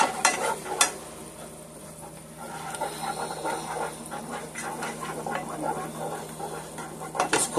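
Apricot preserves cooking in butter in a pan over medium-high heat, a soft sizzle and bubbling with occasional stirring scrapes and pan knocks, close and moderately loud.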